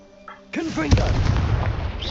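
A Confringo blasting spell goes off in Hogwarts Legacy, with a brief whooshing tonal rise followed by a sharp, loud bang and a lingering crackling tail.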